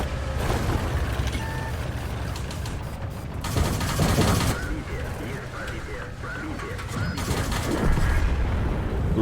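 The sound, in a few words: tank cannon fire in a video game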